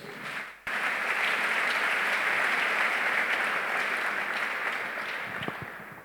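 A church congregation bursts into sustained applause after a brief lull, the dense clapping staying loud and steady for several seconds before easing slightly.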